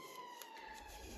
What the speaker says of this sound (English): Uh-oh, sirens.